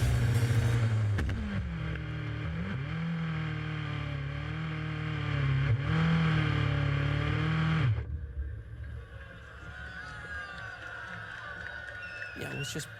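A race car in Holland on a driver's first outing, its engine holding a loud steady drone with small revs before cutting out abruptly, then a quieter stretch with voices around.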